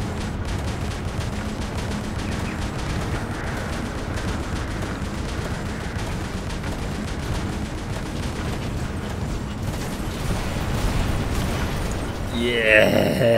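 Rapid bursts of gunfire in the video game War Robots crackle continuously beneath excited voices, with a louder flurry of shots near the end.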